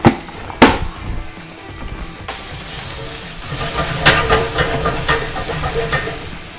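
Oil sizzles and hisses in a hot pan while something browns before ground meat and garlic go in, with a few sharp clanks of a utensil at the start and stirring scrapes building up near the end.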